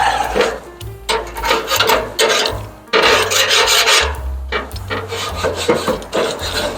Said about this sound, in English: First thing we're going to do, give it a good scrape.